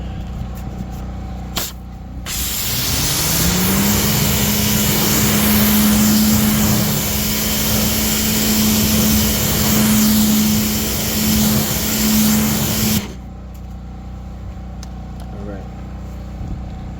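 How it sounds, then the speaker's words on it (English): A tire on a wheel is rinsed with a pressure washer, a loud continuous hissing spray of water with a steady motor hum that starts abruptly, runs for about ten seconds, then cuts off. "Let's go ahead and rinse."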